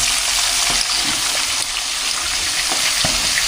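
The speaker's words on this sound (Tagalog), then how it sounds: "Nagpiprito dito ng ating mga isda." Fish sizzle steadily in hot oil, a dense crackling hiss with occasional pops and spatters throughout.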